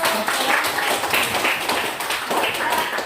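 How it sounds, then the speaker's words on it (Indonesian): A short burst of clapping from a small group of students in a middle school class, brisk and uneven, continuing steadily for a few seconds. "Tepuk tangan untuk"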